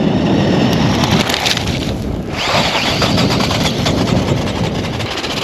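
A Tamiya 2WD RC buggy drives over rough ground, its small electric motor whining continuously with constant rattling and crunching of wheels and suspension, loud and close throughout.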